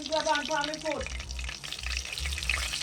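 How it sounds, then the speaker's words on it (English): Curry beef fries and sizzles in a pot over a wood fire in the countryside, a steady close hiss and crackle with low stirring thumps, after a brief tonal voice at the start. "You hear that the frying gets to go up in it? Look a sizzling sound."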